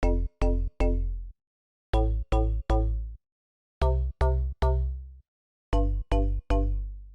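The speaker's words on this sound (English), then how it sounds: "This is a kind of plucky mallet bass and it's called Amazon." A plucky mallet-style synth bass preset named Amazon plays short percussive notes in groups of three with gaps between, each hit sharp with a brief ringing decay, clean and alone.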